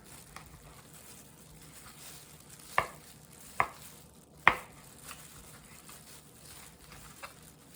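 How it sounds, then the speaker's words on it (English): A knife slices sausages on a cutting board for a chicken and sausage jambalaya, making three or four crisp, fairly faint cuts spaced under a second apart against quiet kitchen background noise. "let me slice down these"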